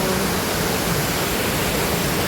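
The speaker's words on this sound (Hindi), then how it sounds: "यहाँ फॉल की ही आवाज़ सबसे ज़्यादा आ रही है" Loud, unbroken roar of Kempty Falls in Mussoorie, a dense rushing hiss of falling water that stays constant throughout with no other sounds.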